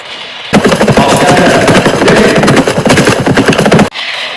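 A loud, continuous burst of rapid gunfire, crackling shots piling on top of each other for several seconds before cutting off abruptly.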